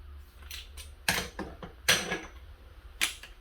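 A torque wrench ratcheting and clicking against an orange bench vise, heard as a few short, close mechanical bursts and clicks spaced irregularly over a quiet background.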